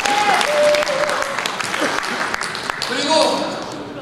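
Audience applause at the founding convention of a Chungcheong civic forum association, with roughly 500 people attending: steady clapping from a large crowd that carries through the whole stretch, swelling again toward the end, with a few voices calling out over it.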